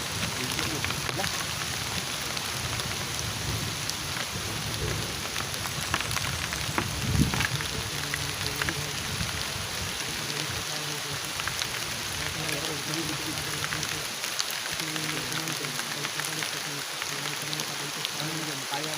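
Heavy rain falling outdoors, a dense, constant hiss of drops pattering on surfaces that stays steady throughout, with faint voices talking underneath.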